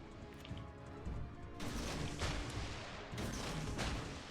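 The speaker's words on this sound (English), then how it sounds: "it fires lots of torpedoes" Warship gunfire and torpedo launches in World of Warships Legends, a quiet background rumble broken by two heavy bursts of blasts and crashes, each sustained for about a second.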